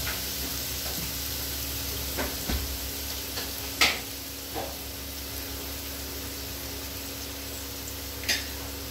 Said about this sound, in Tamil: எண்ணெயில் இஞ்சி பூண்டு வாசம் பச்சை வாசம் போகிற வரைக்கும் நல்லா வணக்கணும்.